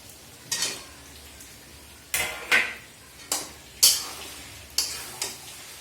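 Potatoes tossed into a frying pan while cooking alongside chicken, giving several separate bursts of bright crackling sizzle that flare up and fade, each a second or so apart, close by with no voices.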